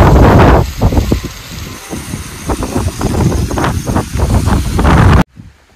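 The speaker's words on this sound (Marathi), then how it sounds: "जोराचा असा वारा सुटलेला आहे त्यामुळे माझा आवाज कमी येऊ शकतो" Strong wind roars and buffets the microphone in heavy, uneven gusts on a hilltop at Visapur Fort, loud and close, then cuts off abruptly near the end.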